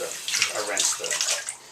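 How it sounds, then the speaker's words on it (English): Plates are rinsed under cold running water from a tap, a steady close splashing and gurgling stream with a few louder surges, with no talking. "And I'm doing the cold rinsing."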